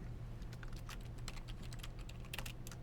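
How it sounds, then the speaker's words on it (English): Rapid clicking keystrokes on a computer keyboard, close and fairly quiet, in irregular bursts of typing over a low steady hum, with no voices. "Are you typing it right now in the chat?"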